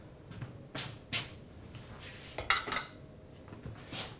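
A pan goes onto a kitchen stove with a few scattered, fairly quiet metallic clanks and clatters, separated by short pauses.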